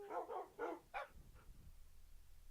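Dogs in the video game Minecraft give four or five quick barks in a short burst, fairly faint, followed by low rustling game noise.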